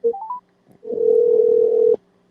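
A short run of rising telephone keypad tones is followed by a brief pause, then a steady dial tone that holds for about a second before cutting off.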